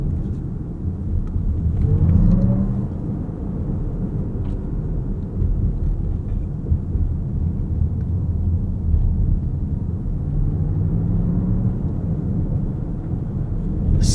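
Inside a 2026 Lexus ES 500e Premium AWD electric car on the move, there is a steady low road rumble with soft, faint electric whines that rise and fade, subdued and continuous.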